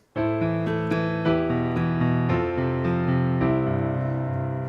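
Piano chords play one after another at a moderate pace, each struck cleanly with the left hand leaping to a bass root note beneath, ringing out close and clear with no voices.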